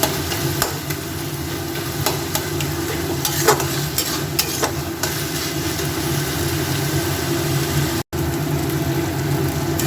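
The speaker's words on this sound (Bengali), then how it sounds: "আর একটু পেঁয়াজটা আমি নেড়ে ছেড়ে নিই" Chopped onions sizzle steadily in a pan over a simmering flame while a spatula scrapes and stirs them in repeated strokes, close and continuous with no voices.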